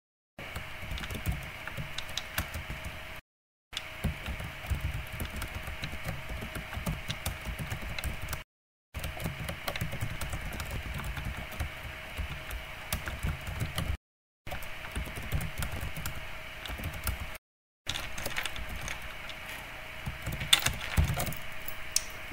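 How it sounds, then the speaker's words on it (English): Continuous close typing on a computer keyboard, rapid patter of key clicks in long runs broken by brief silent gaps, over a faint steady electronic hum. "Now I have to type it."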